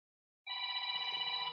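A telephone rings during a livestream, a steady bright electronic trill that starts abruptly after a short silence and continues unbroken, heard alone at close range with a faint low hum beneath.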